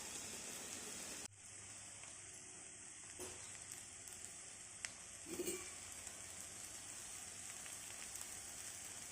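Ginger, garlic, jackfruit seeds and onion pieces frying in a pan, giving a steady, even hiss of sizzling oil with a few brief stir clatters partway through and no talking.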